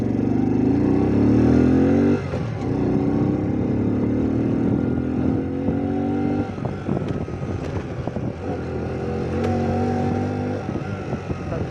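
A 2023 RMG Moto Gusto Spark 50cc motorcycle engine running close, rising in pitch, then dropping and climbing again as gears shift while riding.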